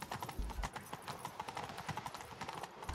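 Rapid clip-clop of galloping horse hooves in the video game The Witcher 3: Wild Hunt, loud and close, with a steady driving rhythm over a faint background.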